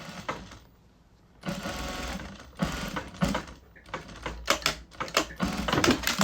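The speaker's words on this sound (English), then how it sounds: "Now sewing on the other pocket." A sewing machine stitching round-corner pockets onto a garment, running in several loud bursts of rapid needle chatter broken by short pauses.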